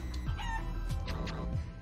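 A chicken clucks rapidly and repeatedly in Guacamelee 2 chicken mode, with short close-up squawks over a steady game soundtrack.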